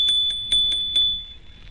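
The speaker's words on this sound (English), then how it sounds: "And here is the bell." Bicycle bell rung five times in quick succession on a rural road, bright, close metallic dings at a steady rhythm with a sustained ringing tone, then fading.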